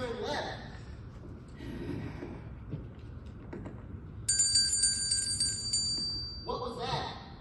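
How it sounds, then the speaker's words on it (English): A small bell rings out in a bright, sustained burst midway through a school stage play, cutting in over muffled talk and movement, with voices heard before and after. "That was a little bell that I had."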